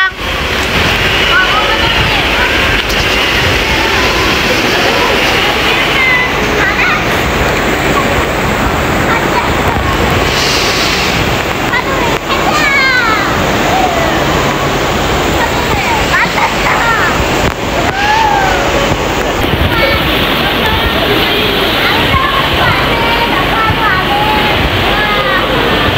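Surf at a beach in Subic, Zambales, rushes continuously and loudly under heavy wind buffeting on the microphone, with people talking faintly throughout.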